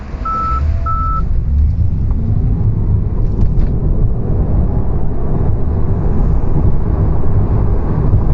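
Tesla Model 3 Standard Range Plus electric car accelerating hard from a highway toll entry, with loud road and wind roar building steadily inside the cabin; two short electronic beeps sound at the start.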